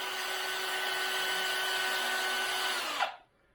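A Hare & Forbes HM48 milling machine runs through its travel with a steady, close motor whine that holds evenly for a few seconds before winding down abruptly to near silence.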